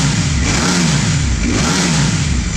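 A Ducati Panigale V4R superbike engine revs hard from standstill, a loud, close, continuous roar swelling and dropping in two throttle blips over a couple of seconds, with no one talking.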